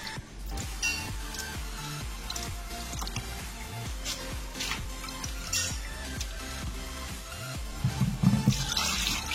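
Soft bhetki fish being rinsed by hand in water, with steady drips, splashes and squishy handling sounds throughout, close up and moderately loud, no talking.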